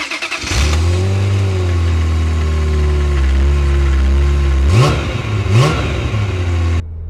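A Ferrari F355 berlinetta's 3.5-litre V8 cranks and catches, then settles into a steady, loud idle, followed by two quick throttle blips that rise and fall before the engine cuts off abruptly.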